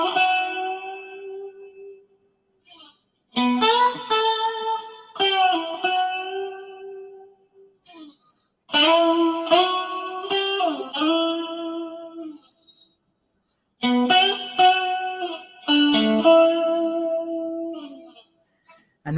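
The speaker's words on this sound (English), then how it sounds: "I think he's using that second position on his Strat, which is the bridge pickup and the middle pickup combined" A Stratocaster electric guitar motif played with the bridge and middle pickups combined, short bursts of bright bending phrases separated by silent gaps, close and clear with no talk.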